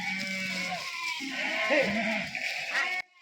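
Sheep bleat continuously in a crowded village sheep pen, several animals calling over one another in loud, overlapping wavering cries, with faint voices mixed in before the sound cuts off abruptly.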